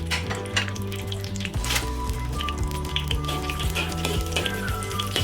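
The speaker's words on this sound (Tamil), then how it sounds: "நெய் காய்ச்சிருச்சு, அதில் வந்துட்டு இந்த தாளிப்பு பொருட்களை வந்துட்டு ஆட் பண்ணுறேன்." Whole spices tempering in hot ghee and oil for chicken biryani, a steady close sizzle and crackle with faint utensil clinks and a low background hum, no talking.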